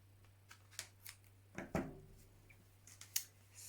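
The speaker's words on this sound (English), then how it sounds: "So I've just cut around the shape there" Scissors snipping out a paper crocodile craft shape, a handful of short, crisp cuts at irregular intervals, close and fairly quiet in an otherwise still room.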